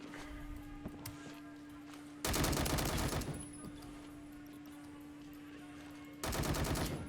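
Video game gunfire from a gun with no attachments: two loud sustained bursts of rapid automatic fire, one after about two seconds and another near the end, over a low steady background hum.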